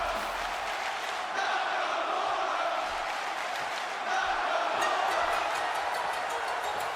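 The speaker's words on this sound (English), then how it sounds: "And listen to this crowd." A roaring arena crowd in the WWE 2K18 wrestling video game, a dense continuous wall of cheering and shouting that swells louder midway, with no clear voices standing out.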